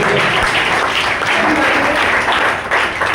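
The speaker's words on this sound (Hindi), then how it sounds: "मैं चाहूंगा मैडम के लिए एक बार जोरदार तालियां।" Loud, sustained applause from an audience at a Smart Value event, dense clapping filling the whole stretch without letting up.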